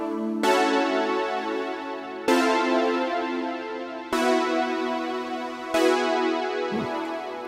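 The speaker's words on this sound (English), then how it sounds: "And then we have the Synth 1 VST with another preset that I found called Choir Pad," Synth1 VST synthesizer playing its Choir Pad preset: four sustained, bright choral chords, each struck about every 1.7 seconds and ringing out before the next, loud and alone with no talking.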